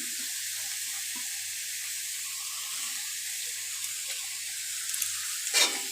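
Chopped masala frying for an egg bhujia curry, a steady even hiss of sizzling oil throughout, with a few soft stirring scrapes and a brief louder clatter near the end.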